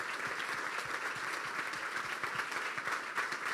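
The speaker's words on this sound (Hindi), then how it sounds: "जोरदार तालियां खुदा की खादमा के लिए" Steady applause from a church congregation during a Hindi-language sermon, dense even clapping sustained throughout at moderate distance, with no talking over it.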